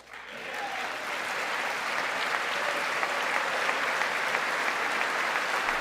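Sustained, loud applause fills a large hall as a State of the Union audience claps continuously and steadily, a dense wash of many hands with no pauses.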